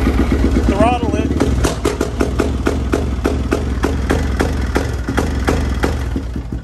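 A Honda or Yamaha motorcycle engine starts and is throttled, giving a loud, close rhythmic idle with regular firing pulses throughout, and someone talks over it.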